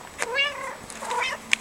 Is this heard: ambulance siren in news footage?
no